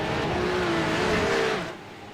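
A Porsche Cup race car in the iRacing sim game crosses the finish line, its engine a loud steady drone with a rising tonal whine that cuts off sharply near the end, leaving a lower hum.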